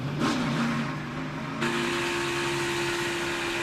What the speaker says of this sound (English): He even downshifted, trying to get that car slowed down enough to avoid this accident.